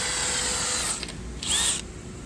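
A power tool deburrs a V8 engine block being built for a 1200 hp burnout engine, a steady close whine with two brief higher-pitched bursts partway through.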